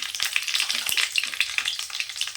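Curry leaves sizzle and crackle in hot oil with mustard seeds and urad dal, the tempering for a goat head curry; a steady, close frying hiss with small pops and no talk.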